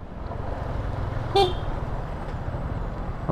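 A brief, single honk of the stock horn on a Yamaha Sniper 155 motorcycle cuts through steady road and engine noise, short and moderately loud.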